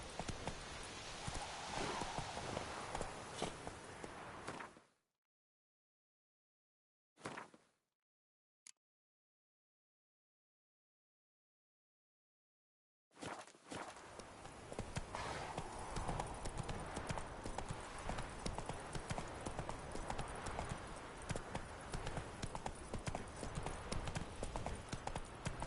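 Roach, the horse in The Witcher game, gallops with a rapid, loud clip-clop of hooves, broken by a few seconds of silence before the hoofbeats resume at full pace; brief voices can be heard.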